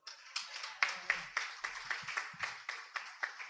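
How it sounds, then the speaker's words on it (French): Applause from a congregation at a nuptial ceremony, a steady run of many hands clapping at moderate distance with periodic louder swells, no voices over it. "Sur votre applaudissement, s'il vous plaît."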